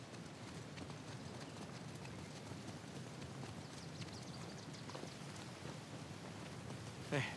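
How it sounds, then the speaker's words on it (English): Heavy rain in the video game Uncharted 4 hisses steadily and evenly throughout, faint and constant, with a brief louder clatter near the end. "Oh man, that rain is intense."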